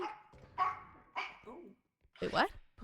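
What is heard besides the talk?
dog barking in the background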